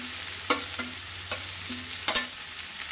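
Cabbage and beans stir-fried in a pan with grated coconut, turmeric, salt and curry leaves for a Kerala thoran: steady sizzle with sharp scraping stirs of a spatula every half second or so, close and clear.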